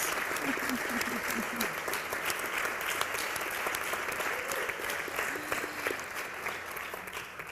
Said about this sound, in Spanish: Así que un aplauso a todos por vuestros proyectos.